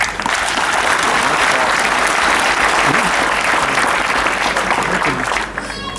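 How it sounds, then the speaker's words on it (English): Dense, steady audience applause at a college event attended by the Kabaka of Buganda and Kyabazinga of Busoga, loud and sustained for the full six seconds before easing slightly at the end. "If something is good, clap meaningfully so that people know you appreciate."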